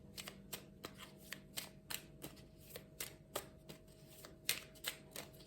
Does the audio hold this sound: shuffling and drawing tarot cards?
yes